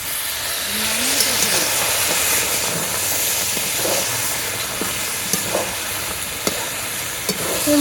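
Jackfruit and eggs sautéing in a pan with added water, a steady hissing sizzle and steam with intermittent stirring knocks and scrapes, close and fairly loud.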